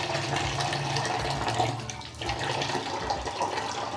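Water from a running tap splashes and pours steadily over a newborn baby during a bath, a continuous close rush of water with no talking.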